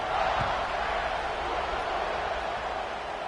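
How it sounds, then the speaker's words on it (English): A football stadium crowd buzzes after a score, a dense continuous roar of many voices at steady loudness throughout, with no single voice standing out. "this crowd is buzzing after that last score"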